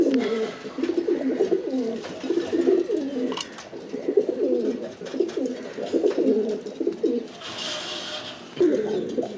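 Pigeons coo in repeated low, throaty phrases, close and fairly loud, with a short pause and a brief rustle before the cooing resumes.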